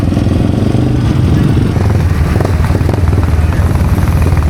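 A vintage Ducati motorcycle engine runs nearby at a motorcycle show, a loud, steady, throbbing rumble with a faint voice underneath.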